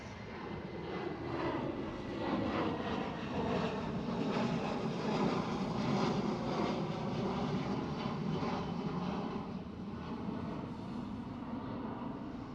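A KLM Boeing 737 airliner at Schiphol, Amsterdam, makes a continuous moderate engine roar that swells slightly midway and then eases, with no voices.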